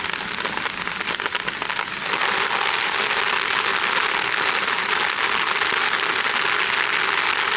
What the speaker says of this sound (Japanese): 朝になっても激しい雨が降り続いていました。